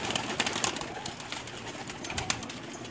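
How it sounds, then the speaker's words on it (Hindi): Pakistani teddy pigeons coo softly in low, repeated murmurs against a steady hiss of outdoor background noise. "कैसे लगे मेरे कुछ कबूतर आपको?"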